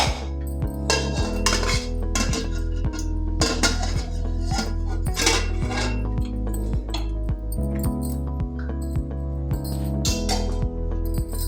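Metal pots and lids clank and clink again and again over a steady low tone in a home kitchen where tomato bajji is being made, with cashews added to a pan before the lid goes on.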